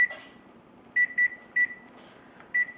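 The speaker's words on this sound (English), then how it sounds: "Let me set my timer here really fast." A kitchen timer set while baking pumpkin cookies gives four short, clear electronic beeps in an uneven pattern, with no talking.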